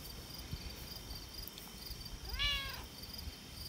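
A single clear cat meow rises and falls near the middle, close and moderately loud, over a quiet, faintly breezy background.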